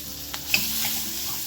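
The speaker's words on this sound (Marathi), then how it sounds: "कांदा चांगला आपल्याला सोनेरी रंग येईपर्यंत परतून घ्यायचा" Finely chopped onion sizzling in hot oil seasoned with mustard seeds, cumin, asafoetida and turmeric, a brief steady close fry with a couple of small pops and stirring sounds.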